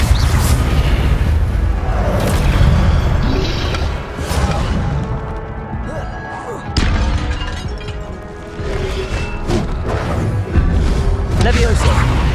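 Incendio fire spell cast again and again during combat in Hogwarts Legacy, heard as loud booming, crashing bursts and thuds over a dense game soundtrack, with voices calling out spells throughout.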